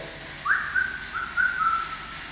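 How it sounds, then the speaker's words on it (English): A person whistles a short wavering tune in a quiet room of a supposedly haunted old jail, several brief rising and sliding notes in a row, fairly close and alone with no talking. "I can whistle."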